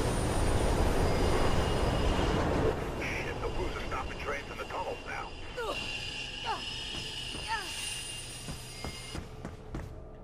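A train in the Mirror's Edge video game, heard as a loud, steady rolling rumble with metallic screeches and chirps that fade toward the end of the ride.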